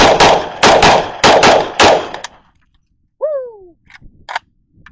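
A Polish Radom AK rifle fires a rapid string of about six loud, sharp shots up close, followed by quiet, a brief squeaky whine and a few light metallic clicks.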